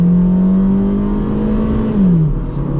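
A 2001 Honda Civic LX engine revving hard under full acceleration, its steady rising whine climbing in pitch before dropping at a gear change, loud and close from inside the car.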